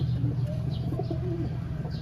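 A racing pigeon coos softly a few times at close range, low murmuring calls over a steady background hum.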